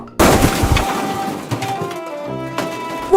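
A toy cannon fires in a toy train story set in the snow, one sharp loud blast followed by fading ringing echoes and a few softer knocks.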